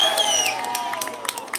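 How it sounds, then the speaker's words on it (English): A demonstration crowd at a Glasgow ULEZ protest roars and cheers in a brief, loud burst with scattered whoops and shouts. "Give us a roar if you were with us the last few years."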